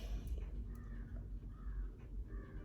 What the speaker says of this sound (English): These crows are going.